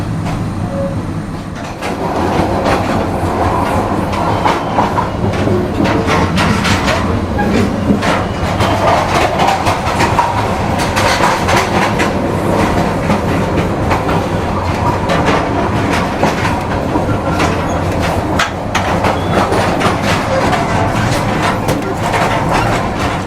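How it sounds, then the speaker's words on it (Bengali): Mohanagar Express passenger train running on rails on a rainy night, a loud, continuous rumble with rhythmic clickety-clack from the wheels, heard from inside a carriage throughout. "যাত্রা করতে করতে আমাদের ট্রেন হঠাৎ কাউরান বাজার এসে থেমে যায়"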